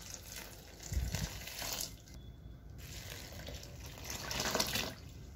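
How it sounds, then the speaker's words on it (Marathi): Water from two jugs poured into a vessel of drained, soaked wheat grains, a steady splashing gush rising twice with a short pause between pours, close and moderately loud with no voices. "आता यामध्ये आपण फक्त 2 तांब्यांनी 2 तांबे पाणी ओतणार आहोत."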